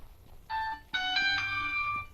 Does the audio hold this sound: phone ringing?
yes